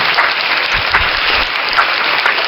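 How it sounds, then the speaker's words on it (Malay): Dense, loud applause from a crowd, steady clapping that fills the whole moment with no talk over it. "Aku nak kasih tepukan sikit."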